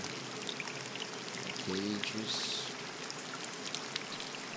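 Broad, steady rush of flowing water near a lake in the video game Scanner Sombre, running the whole time as a constant wash, with a brief spoken word and a short tonal blip partway through.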